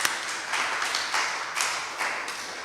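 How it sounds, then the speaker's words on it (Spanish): A church congregation claps together during a Spanish-language sermon, the claps landing in a loose rhythmic beat at moderate volume with a lively room sound. "Le damos un aplauso al Señor."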